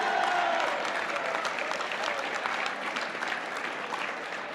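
Applause from a dinner audience at the 2000 White House Correspondents' Association Dinner, a full, sustained clapping that stays loud throughout with no voices over it.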